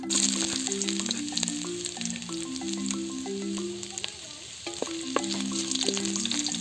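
Ginger sautés in oil for a Filipino native chicken sinampalukan, giving a continuous sizzle with scattered crackles and spatter, while a steady tonal hum runs underneath throughout.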